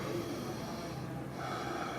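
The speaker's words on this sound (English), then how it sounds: "let's get 5 big breaths" Deep nasal breaths during strength training, a slow series of close, soft inhales and exhales, with no talk.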